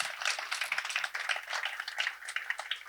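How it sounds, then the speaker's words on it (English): An audience claps in a dense, continuous round of applause after anthems at a 373rd anniversary ceremony for the Treaty of Concordia; it is steady and fairly close, with no talk over it. "I will ask you to applaud them again because it was beautiful"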